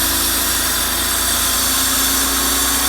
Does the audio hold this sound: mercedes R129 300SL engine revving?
yes